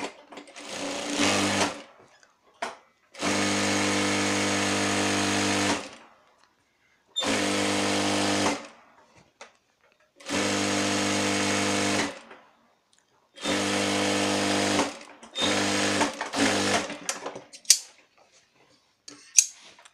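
An electric sewing machine stitches a side seam on a petticoat in about six loud, close bursts of rapid whirring, each lasting a second to a few seconds and separated by short quiet pauses with faint handling clicks.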